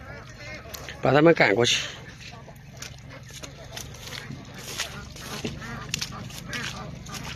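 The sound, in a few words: geese honking on a farm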